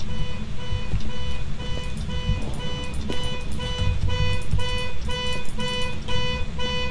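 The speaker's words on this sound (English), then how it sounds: "the car alarm just went off" A car alarm sounds in the Phasmophobia ghost-hunting game, a loud, steady electronic alarm that keeps pulsing without a break over a dense rumbling background.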